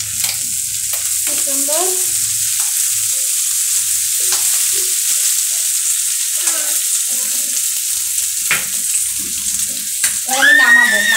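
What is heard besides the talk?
fish fat frying in a pan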